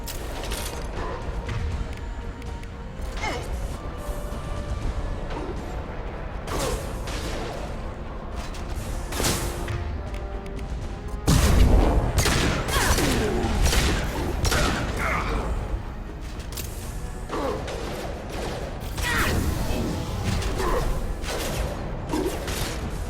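Gunfire in the Mass Effect video game comes in bursts and single sharp shots amid mechanical clatter and booms, loud and dense, with a heavy impact near the middle.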